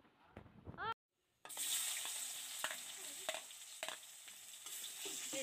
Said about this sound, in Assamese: ৰেচিপিৰ কাৰণে মই প্ৰথমে পিঁয়াজখিনি অলপ ভাজিছোঁ।